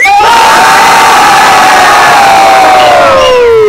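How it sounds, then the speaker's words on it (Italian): A concert crowd at a live show yelling together on a count of three, one loud, sustained collective shout with high-pitched screams riding over it, dense and overpowering. "Quando al mio tre, voi dovete buttare fuori proprio l'anima, capito? Dovete urlare forte, serio."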